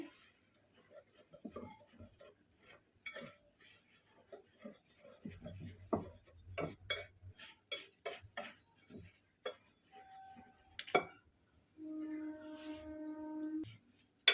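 Sugar, semolina, flour and salt tossed dry in a bowl for pua pitha, giving soft intermittent scraping and clinking of a utensil against the bowl, with a steadier rubbing stretch near the end.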